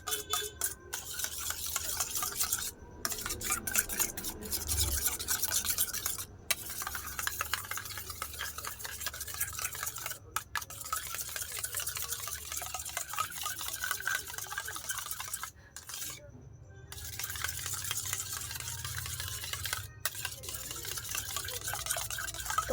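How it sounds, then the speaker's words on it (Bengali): Sour yogurt whisked in a bowl for a gravy, with steady, quick scraping and stirring strokes that run nearly continuously with a few short pauses, up close, and faint speech now and then. "টক দইটা নিয়ে একটু ভালোভাবে ফাটিয়ে নেবো"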